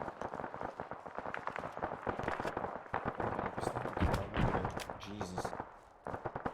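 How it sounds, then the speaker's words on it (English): Rapid bursts of gunfire crackle in a military video game mission, sharp repeated pops running almost continuously beneath a talking voice. "You hear more gunfire up ahead."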